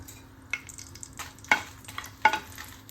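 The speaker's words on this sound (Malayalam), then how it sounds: "ഇനി നമുക്ക് മുളകും ഉള്ളിയും മൂപ്പിച്ചെടുക്കാം" Washed and dried chillies fry in oil for a dried prawn chammanthi. A soft, low sizzle sits under three distinct scraping stirs of a spatula against the pan.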